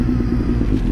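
A Suzuki GSX-S 750 motorcycle engine roars hard on a dyno with a Power Commander 5 custom tune, a loud, steady, close-up rumble with no break across the short burst.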